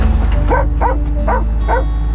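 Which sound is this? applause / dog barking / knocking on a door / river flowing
dog barking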